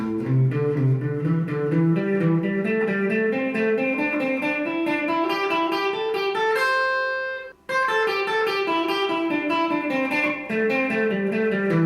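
Overdriven electric guitar plays a quick climbing pentatonic sequence in repeating groups of three notes, held on a ringing note, then descending steadily.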